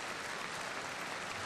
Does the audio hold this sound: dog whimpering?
no